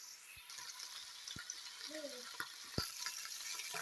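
Meat fries fat side down in a pot, giving a steady soft sizzle with scattered pops and clicks throughout, fairly quiet and close, with a brief faint tonal squeak partway through.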